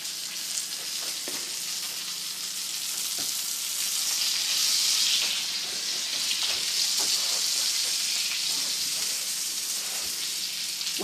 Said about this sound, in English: This steak's been turned twice in the pan already.